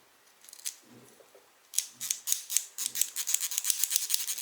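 Aperture ring on a Pentacon/Meyer 50mm f1.8 M42 lens being turned after cleaning: a few soft scrapes, then a rapid run of crisp, evenly spaced clicks, close and quiet, with no talking.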